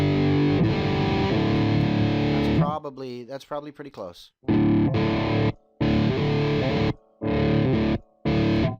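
Guitar played through a Skull Driver fuzz pedal, a Head Case Builder unit, giving a loud, thick distorted tone in sustained chords, then broken off into short bursts with gaps as the settings are tweaked, with a brief spoken comment in between.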